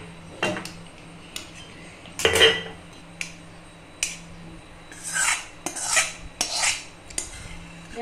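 Homemade garlic pickle being spooned from a pan into a container, with separate metal spoon clinks and scraping rubs in uneven bursts, close and clear against a quiet background, no talking.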